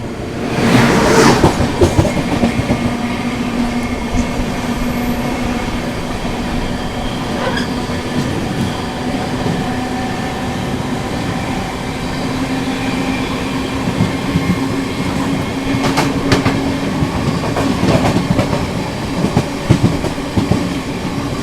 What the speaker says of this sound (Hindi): संपूर्ण क्रांति मीट्स संपूर्ण क्रांति एक्सप्रेस।